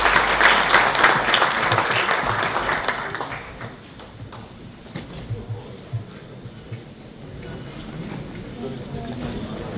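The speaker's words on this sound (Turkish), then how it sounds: "organizasyon adına konuklarımıza teşekkürlerimizi ve alkışlarımızı sunmak istiyoruz" An audience at the close of a session breaks into loud, dense applause that fades after a few seconds into scattered claps and room murmur.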